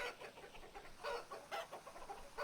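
Several chickens clucking nearby, a quiet run of short, overlapping clucks and throaty murmurs in an uneven rhythm, with no voices.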